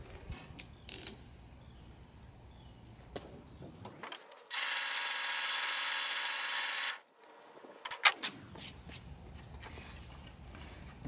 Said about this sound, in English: Now we're gonna drill the rest of that hole out with a smaller bit.